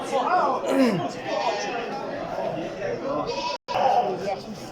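Lambs for sale in Surkhandarya, Uzbekistan, bleat repeatedly in wavering, high cries, some overlapping, close by with a steady murmur of voices and farmyard background underneath.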